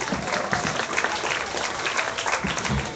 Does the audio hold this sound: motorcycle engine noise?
no